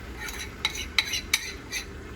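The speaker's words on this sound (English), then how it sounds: "we're just gonna start stirring them around" Scrambled eggs are stirred with a utensil in a small ceramic cereal bowl, giving four or five sharp clinks and scrapes against the bowl in an uneven rhythm over a quiet background hum.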